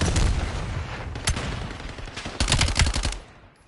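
Rapid bursts of gunfire from the video game Black Ops 7 in an esports playoff match, dense automatic volleys at the start and again near the end, loud and close, fading out at the close.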